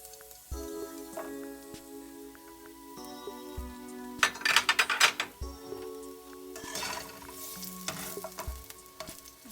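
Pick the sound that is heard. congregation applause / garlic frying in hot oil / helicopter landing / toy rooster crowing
garlic frying in hot oil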